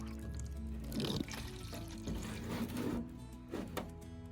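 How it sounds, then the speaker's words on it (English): Water pouring and trickling into a plant pot in short splashy bursts, soft and close, with gentle dribbling between pours. "then you water it, not too much water."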